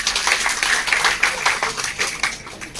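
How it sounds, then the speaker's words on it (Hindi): An audience at a seminar held after a World Yoga Day event in Hisar, India, gives steady, dense applause that runs at even loudness for the full stretch, with little voice heard. "जोरदार तालियों के साथ"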